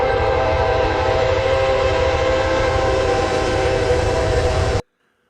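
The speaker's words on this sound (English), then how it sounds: "it gave me a video of the freight train moving past, blowing its horn" A freight train rumbles past loudly while its horn blares continuously, then the sound cuts off abruptly.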